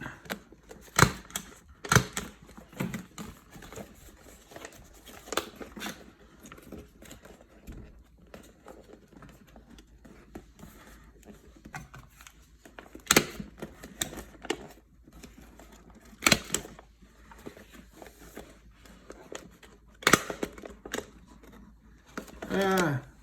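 Paper being stapled while assembling an origami lucky red envelope lantern ball: sharp mechanical clacks recur in irregular bursts, close and crisp over a quiet background.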